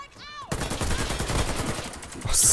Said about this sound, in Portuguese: Mas esse barulho tá muito escroto da AK, velho.